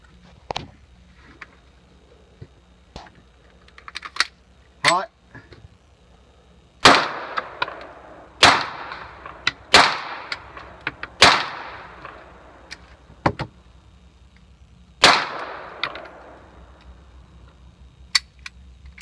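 A Ruger P95 pistol fed from a converted magazine fires a string of loud, sharp shots at irregular intervals, each with a brief ringing decay, mixed with a few quieter metallic clicks and no talking.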